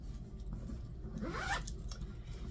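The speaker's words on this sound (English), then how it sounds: "It's got a zip top." A zipper runs along the zip top of a leather purse with silver hardware, one quick close pull rising in a single sweep over a low steady hum.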